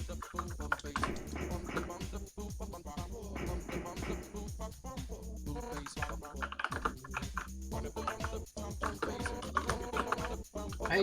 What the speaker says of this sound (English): Joe, if you're gonna clack clack clack on your keyboard, try doing push to talk.